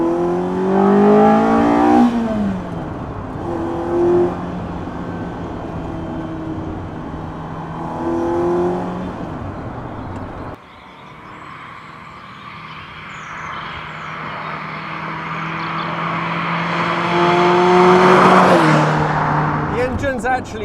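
A Ferrari 308 Group 4 rally car engine with throttle bodies revs and pulls hard through the gears, loud and close, with a steady rising drone and a shift partway through.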